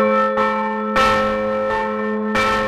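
The 500-year-old Maria church bell in Prague's Jindřišská Tower rings out in slow, resonant strikes, each toll blooming and decaying into a sustained metallic hum, with no other sounds.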